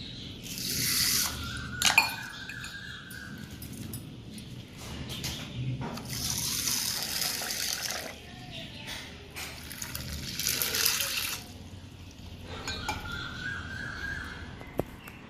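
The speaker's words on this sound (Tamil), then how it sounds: "நல்ல சுத்தமான தண்ணியில் நல்லா ஊற வச்சுருங்க மூங்குற அளவுக்கு ஊற வச்சுட்டு" Clean water poured over chickpeas and cowpeas to soak them, heard as soft splashing and trickling in several bursts with small clinks of a pot, close and fairly quiet.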